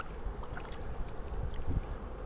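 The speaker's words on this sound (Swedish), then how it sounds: "Det är faktiskt ett vattenfall där framme. Den som dundrar och låter." A waterfall rumbles in the distance, heard from a paddleboard in Skåne, Sweden, a steady low roar of rushing water with no voices.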